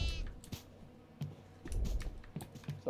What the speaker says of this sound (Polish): Tu jest koza.